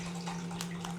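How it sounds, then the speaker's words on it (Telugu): Tamarind soaking water is squeezed and poured into a pot of pulao with golden fried onions, a short, steady splashing pour over a constant low hum. "సో ఈ వాటర్ అనేది మంచిగా పిండి ఇందులో పోసేసేయాలి."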